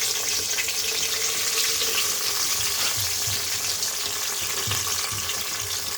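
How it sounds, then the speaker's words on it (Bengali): Garlic and bay leaves fry in hot oil for a tangy-sweet-spicy mango pickle, giving a loud, continuous, even sizzle with faint watery crackling throughout. "রসুন আর তেজপাতা আমি হালকা করে ভেজে নিব"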